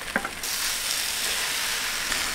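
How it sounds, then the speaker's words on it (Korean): Onion and fish cakes stir-frying over high heat in a pan make a loud, continuous sizzle that swells after a few brief clinks at the start, close up with no talking. "센 불로 하고 양파 넣어요."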